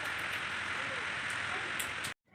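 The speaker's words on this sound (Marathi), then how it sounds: "पाणी सोडल्याच्या नंतर पाऊस आला आहे" Rain falls steadily after a maize field has been watered, making a constant, close hiss of drops on surfaces that stops abruptly near the end.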